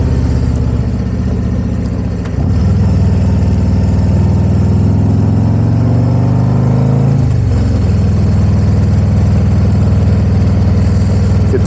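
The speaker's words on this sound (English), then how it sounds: "get the motor warmed up" A motorcycle engine runs steadily close by, warming up with a low idle rumble that swells into a couple of longer revs and then settles back, no voices over it.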